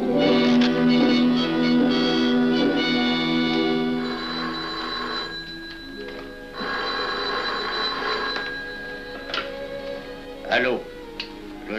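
An old telephone bell rings in an office setting of the 1940s, repeated metallic trilling bursts with brief pauses between rings, then a quieter stretch with faint clicks.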